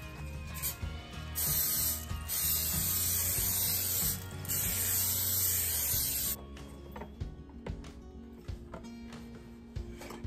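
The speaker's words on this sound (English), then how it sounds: "So we're gonna be using the spray" Cooking spray hisses into a heated pan in a few long, loud bursts over about six seconds, then stops, leaving quiet kitchen clatter.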